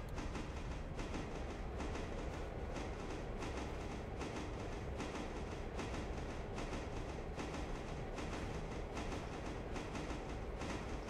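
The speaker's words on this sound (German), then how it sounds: "Ist zwar nicht so ein langer Zug, aber es geht eigentlich." A short freight train in the video game Railroader rolls steadily along, its wheels clicking in a regular clickety-clack rhythm over a constant rumble, with no talk.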